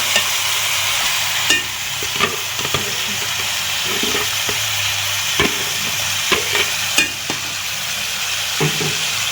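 Potatoes frying in oil over medium-high flame with spice paste, a steady hiss under sharp intermittent scrapes and knocks of a spoon stirring the pan, close and without speech.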